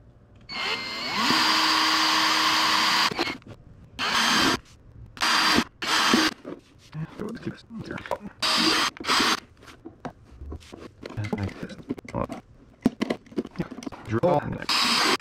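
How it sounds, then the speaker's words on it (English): Power drill boring a hole for a side-mounted trolling motor mount on a Hobie Outback kayak: one long whining burst, then a series of short on-off spurts with clicks and handling noises between them, with a person talking at times. "go drill a hole, drill out that hole for to put this in."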